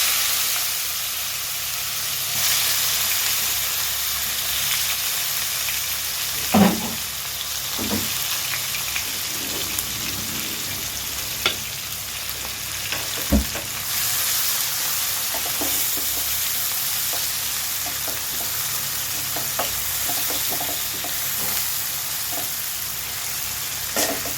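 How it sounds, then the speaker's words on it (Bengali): Chopped onions fry in hot oil with a steady, even sizzle throughout, broken by occasional clinks and scrapes of a stirring spoon, close and moderately loud, with no talking. "এবারে ভাজা তেলটা আমরা পেঁয়াজ কুচি দিয়ে দিব"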